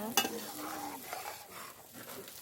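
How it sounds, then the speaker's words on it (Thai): Long beans being stir-fried in a pan, a home-style Thai dish: a soft sizzle under light stirring, opening with a sharp clink of utensil on the pan, then quieter scraping strokes, close by. "ผัดถั่วบ้านๆนะจ๊ะ"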